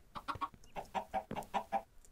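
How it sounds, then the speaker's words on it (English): Chickens in a Minecraft Feed The Beast modpack farm cluck in quick, rhythmic bursts, several short calls tumbling over one another, fairly close and clear with no talking. "Don't they ever just want to take a break from all the dang clucking?"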